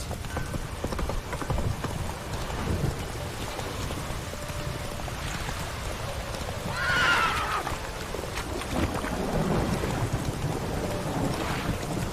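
Horse in The Witcher 3 video game, steady clip-clop of hooves in a continuous rhythm with a sharp whinny partway through, wind and ambient noise around it.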